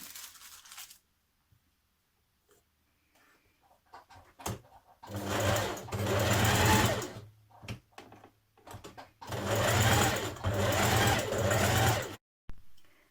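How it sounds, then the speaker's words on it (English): A sewing machine stitches side front panels to a centre front bodice of an occasion dress, running in two long steady bursts with short pauses and handling noises between, close and fairly loud. "Now you're going to stitch your side front panels to your front centre bodice"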